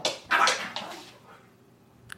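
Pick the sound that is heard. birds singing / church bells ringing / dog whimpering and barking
dog whimpering and barking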